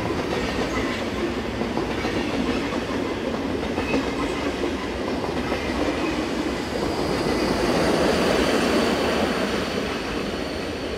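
A local Swiss passenger train of two units, 787 and 756, on the Schaffhausen–Winterthur shuttle, comes off a short double track section, a continuous rolling rumble with rhythmic wheel clatter that swells slightly toward the end, no voices.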